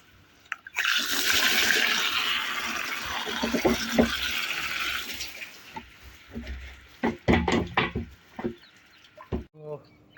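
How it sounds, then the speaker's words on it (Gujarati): Water from a motor pump gushes into a potato field in a loud, steady rush for about five seconds, then gives way to scattered knocks, splashes and a few faint voices. "હવે થોડી વાર પાણી જવા દઈએ પછી મોટર બંધ કરીએ"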